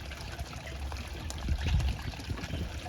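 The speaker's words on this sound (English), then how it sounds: "I'm gonna run the water hose through it and just try to wash some of that stuff out." Water from a garden hose flows through a pond bog filter outdoors, a soft continuous trickling and splashing wash that swells briefly midway, fairly faint and alone.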